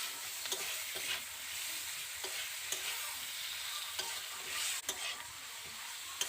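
Vegetables with chopped tomato and salt being sautéed together in a pan, a continuous frying sizzle broken by repeated spatula scrapes and light taps against the pan, with no voices.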